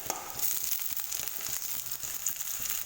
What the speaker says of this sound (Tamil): பச்சை மிளகாயும் வெங்காயமும் பார்த்திங்கன்னா நல்லா வதங்கிடுச்சு